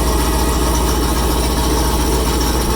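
A Chevrolet Camaro ZL1 V8 in unhealthy, badly damaged condition runs right after startup, giving a loud, steady, rough low engine drone up close with no talk over it.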